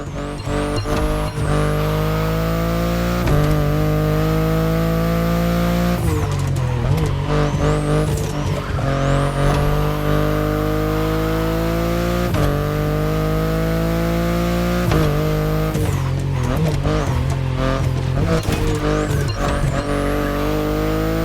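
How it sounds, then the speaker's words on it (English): A BMW i8 hybrid sports car driven in The Crew Motorfest racing game, its engine droning loudly and continuously with repeated rising revs and sharp drops at gear shifts throughout. "the i8, the sports car you're driving"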